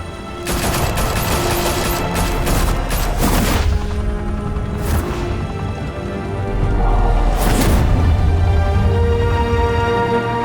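Sustained gunfire in a Batman video game, dense rapid bursts of shots and booms rolling continuously at close range with almost no pause.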